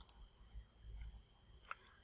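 A single sharp mouse click on an on-screen button, quiet and brief, set against faint room noise.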